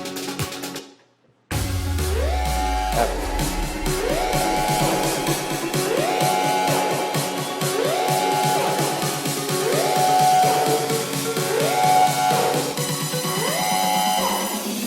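Electronic dance music build-up after a brief pause, with repeating rising swoosh sweeps and echoing layered synths growing denser over a steady beat.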